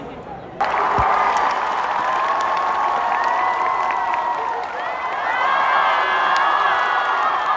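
An audience of students at a university orientation week cheers and shouts together in a loud, sustained roar that starts abruptly and holds steady, with high whoops rising over the crowd.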